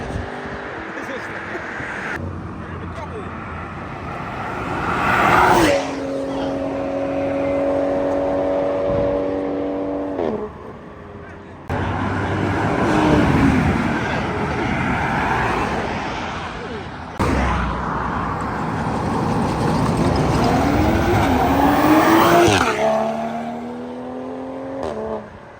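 A tuned car runs hard on a street, its engine roaring through repeated rising pulls with sharp shifts between them, loud and close, with a few brief pauses where the revs fall away.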